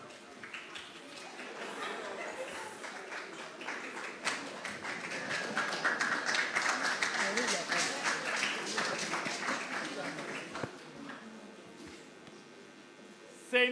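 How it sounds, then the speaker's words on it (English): An audience at a national investment quiz competition gives a sustained round of applause to welcome a college presenter. The clapping swells steadily over several seconds and then fades, with faint chatter underneath. "Let's welcome the presenter for St. Augustine College with a round of applause."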